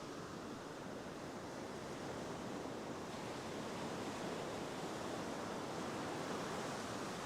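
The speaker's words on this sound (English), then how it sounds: "Now I've got to wait for the waves." Ocean waves washing onto a beach at low tide, a steady, even rush of surf that stays constant throughout with no voices.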